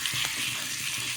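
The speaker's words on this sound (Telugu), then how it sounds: "ఇలా ఇంకొక నిమిషం పాటు కొంచెం ఆయిల్లో ఫ్రై చేసేసుకున్న తర్వాత ఇప్పుడు ఆఫ్ చేసేసుకుందాం" Ground chutney frying in a little oil in a pan: a soft, steady sizzle and crackle with faint stirring scrapes, close and alone.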